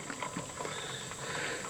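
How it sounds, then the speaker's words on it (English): Tomatoes boiling inside a pressure canner after the jiggler has stopped, a soft continuous bubbling and rumbling from within the closed pot with faint patter, steady and fairly close. "You can hear it boiling inside yet."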